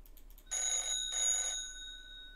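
An electronic telephone ring sounds in two bright bursts separated by a short gap, clear and steady in a quiet room, preceded by a few faint soft taps.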